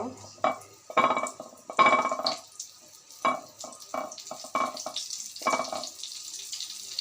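Egg-coated rohu fish pieces hit hot oil, giving a series of close, loud sizzling bursts that rise and fade one after another as each piece goes in, with a low voice occasionally in the background.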